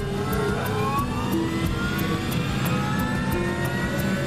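Jet engines of the Air Florida Flight 90 aircraft, heard from inside the cockpit, spool up in a steady, loud drone with rising whine and rhythmic clicking pulses, no voices.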